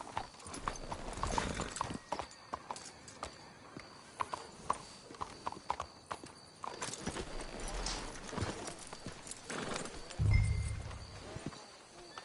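Horse hooves clip-clopping in Red Dead Redemption 2, irregular and busy over scuffling and shifting noise, with a louder low thump near the end and faint voices now and then.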